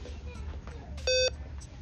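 A single short electronic beep comes from a store checkout price scanner. It is clear and close against quiet background hum, with no talking during it.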